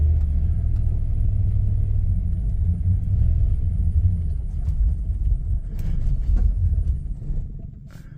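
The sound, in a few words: 1998 Jeep ZJ 5.9 Limited engine running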